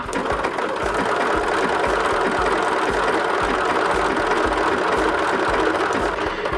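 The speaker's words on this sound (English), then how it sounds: "we're just stitching along the edge of it there" Sewing machine triple stitching along the edge of a neon satchel panel, loud and close, with a fast, even mechanical chatter of needle strokes running steadily throughout.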